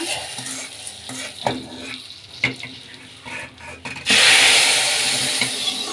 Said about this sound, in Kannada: ಈಗ ಬಾಯ್ಲ್ ಆಗ್ತಾ ಇರೋಂಥ ಗೋರಿಕಾಯಿಗೆ ಈ ಒಗ್ಗರಣೆಲ್ಲ ಸೇರಿಸ್ಕೊಳ್ಳೋಣ